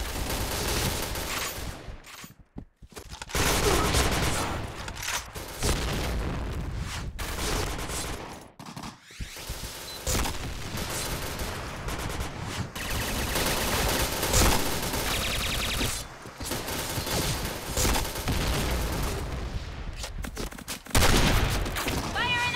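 Rapid automatic gunfire fills the Point Blank online shooter match almost without pause, dense bursts of shots with brief gaps and announcer-style game callouts mixed in.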